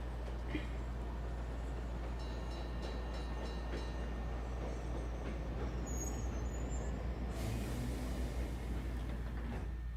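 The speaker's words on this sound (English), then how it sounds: "And they travel by train." A train rolls along steadily in a Splatoon game trailer, a continuous low rumble and rattle of the cars that fills the whole stretch with no pauses, loud and close throughout.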